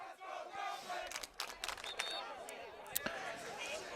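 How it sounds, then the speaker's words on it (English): A student crowd at a high school boys soccer game between Durfee and New Bedford chants and cheers, with rhythmic shouts and sharp claps rising over open-air crowd noise, moderately distant. "the Let's Go Durfee chant coming out of the crowd now"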